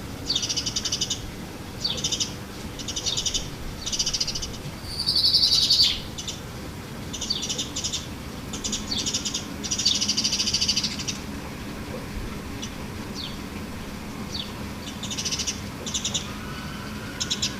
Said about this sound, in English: This may be a Sparrow Alarm call.